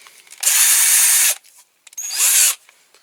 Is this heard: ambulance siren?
no